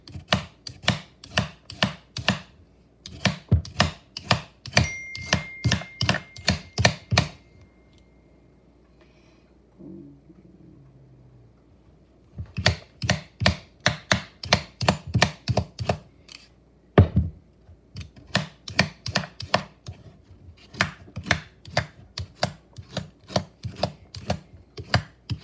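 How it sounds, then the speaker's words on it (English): Four big potatoes are peeled in quick, rhythmic scraping strokes that come in runs, with a pause of several seconds partway through and no speech. "So I'm gonna peel these 4 potatoes"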